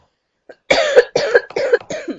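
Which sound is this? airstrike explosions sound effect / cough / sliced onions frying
cough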